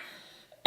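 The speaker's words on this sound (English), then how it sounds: "there will be coughing because I'm still coughing" A single sharp cough bursts out after a near-silent stretch, loud and close.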